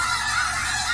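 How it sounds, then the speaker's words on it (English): A dense, loud chorus of many birds calling at once, steady throughout, like a packed flock of chickens clucking close by. "Look at all those chickens!"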